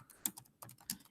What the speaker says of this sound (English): see how my typing is while I'm talking.